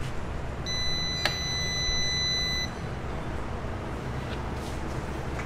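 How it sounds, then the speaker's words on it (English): A faint high electronic beep tone from a car engine computer powering up holds for about two seconds over a low steady hum, followed by a quiet background. "So if it goes beep"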